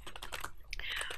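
Fast typing on a computer keyboard, a quick run of crisp key clicks up close, brief and steady, with no voices.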